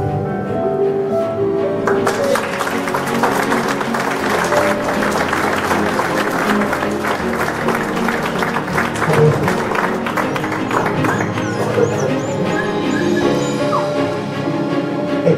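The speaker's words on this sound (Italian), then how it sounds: "Un applauso per voi." Wedding guests at a symbolic ceremony in a grand hotel applaud the newlyweds after the kiss, with loud, sustained clapping that starts a couple of seconds in and continues steadily to the end.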